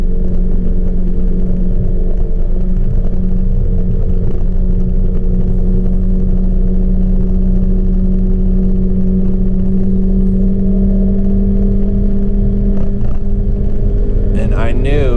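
A 125cc scooter engine strains steadily under load while towing a truck uphill, a loud continuous drone with a rising pitch as the clutch engages, and wind noise toward the end.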